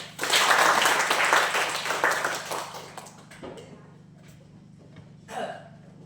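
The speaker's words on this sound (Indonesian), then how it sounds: "Oke, tepuk tangan untuk kita semua." Classroom students clap together loudly for about three seconds, then the clapping fades into scattered taps and a brief burst, with a low hum beneath.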